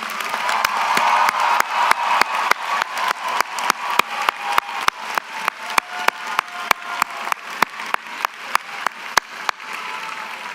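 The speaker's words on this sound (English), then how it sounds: "And graduates, show your appreciation to them with resounding applause." Sustained applause from graduates at a University of Central Florida fall commencement ceremony, steady dense clapping from a large crowd filling the hall, with faint cheers, continuing loud and even throughout without talk.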